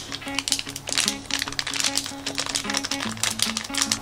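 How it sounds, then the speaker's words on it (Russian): A packet of slime powder is torn open and the powder poured out, a soft crinkling and rustling with light tapping, close and fairly quiet, with no speech. "Открываем пакетик."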